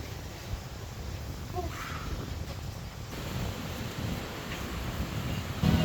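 Blustery wind blows by the sea during a storm signal, buffeting the microphone in a steady low roar with a few gusty swells and a sharper rise at the very end, with no voices.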